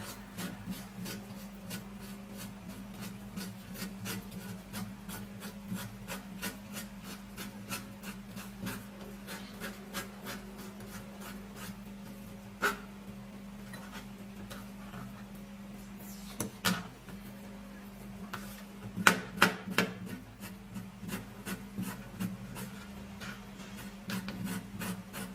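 The soft inside of a banana peel is scraped little by little, a faint, rapid run of light rasping strokes close up and quiet, with a few louder scrapes near the end.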